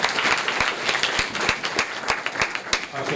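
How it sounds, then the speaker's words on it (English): Applause from guests at a 40 Under 40 dinner celebration: dense crowd clapping with a few sharp, distinct claps standing out, steady and fairly close. "Let's give another round of applause for everyone that participated in our honorees"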